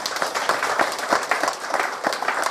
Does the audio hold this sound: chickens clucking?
no